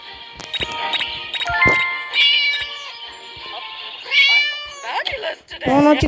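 A cat meows repeatedly, with several fairly loud, wavering cries spread across the clip, and speech comes in between the cries.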